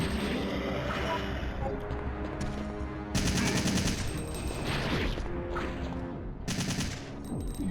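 Rifle gunfire in Resident Evil 3 Classic plays as loud bursts of rapid shots, several distinct volleys with short gaps between them, over a continuous game soundscape.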